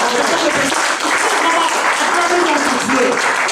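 A church congregation applauding to acclaim the Lord, steady loud clapping from a large crowd filling the room continuously without pause.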